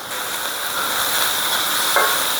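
Green chilies frying lightly in hot oil in a pan, a steady close sizzling hiss that holds evenly throughout with no one talking.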